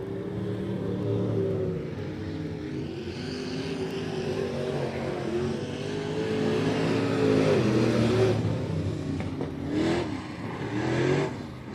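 IMCA Modified race cars run practice laps on the I-37 Speedway oval, engines droning and swelling steadily as the field passes, with louder surges near the end.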